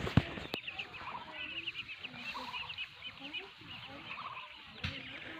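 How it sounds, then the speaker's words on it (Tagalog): Ducks on a farm chatter and quack in a busy, overlapping flock at moderate distance, with a few sharp knocks and a low rural background. "Ayun yung pato."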